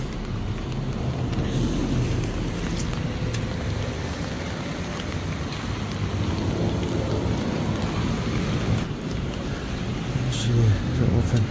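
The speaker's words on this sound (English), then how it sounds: "Get the rain for a bit." Steady rain pours outdoors in a quiet spot just before a storm, a dense, continuous hiss with low rumbling underneath that swells slightly near the end.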